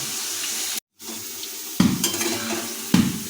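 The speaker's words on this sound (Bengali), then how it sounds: "আলুর টুকরোগুলো গরম তেলের মধ্যে আমরা আলু টুকরোগুলো দিয়ে দিচ্ছি" Potato pieces fry in hot oil, crackling with a steady, fairly loud sizzle that cuts out briefly, then returns with a few sharper bursts as pieces are stirred or added.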